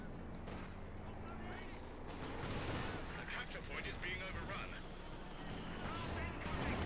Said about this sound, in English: Big assault here, we got artillery called in